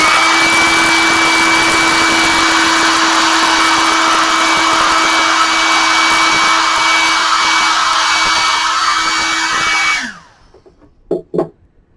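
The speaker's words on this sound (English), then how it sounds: "Hair dryer." A hair dryer blows at close range, a loud steady whir with a constant pitched hum for about ten seconds, then switches off and spins down, followed by a couple of soft handling knocks.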